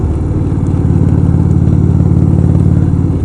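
An Indian Roadmaster motorcycle engine drones loud and steady while riding, a deep low rumble with a constant pulsing throb and wind noise layered on top.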